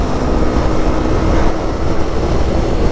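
A Yamaha YZF-R3 motorcycle engine cruises steadily at highway speed, its drone blended into a loud, dense roar of wind and road noise that holds constant throughout.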